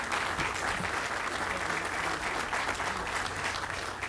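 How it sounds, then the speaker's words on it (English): Audience applauding at a town center groundbreaking ceremony, continuous broad clapping from a gathered crowd heard at moderate distance, even and sustained throughout without speech. "So y'all want you to give Riddell Duke a big round of applause, too"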